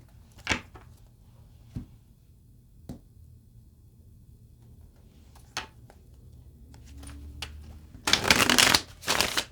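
Tarot cards tap and flick in scattered single snaps, then a quick riffling shuffle bursts out loud and close at the end, with no talking.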